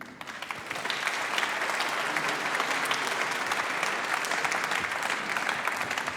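A large audience at the Revision 2025 demoparty prizegiving breaks into dense, sustained applause that swells after a brief start and holds steady and loud to the end, with no voices over it.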